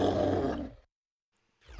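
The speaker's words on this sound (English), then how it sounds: "That's a dinosaur." Dinosaur roar sound effect as played at a theme park: a single loud, deep, harsh roar lasting under a second, cutting off into silence before a second roar begins to swell at the end.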